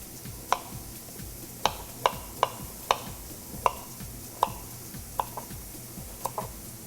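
Fresh ginger sliced with a paring knife on a board, giving about a dozen sharp, separate knife taps at an uneven pace, fairly close and moderately quiet, with no talking.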